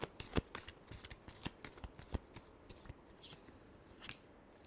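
A deck of tarot cards is shuffled by hand in quick, close riffles: rapid papery flicks and slaps that start brisk and taper off softer toward the end.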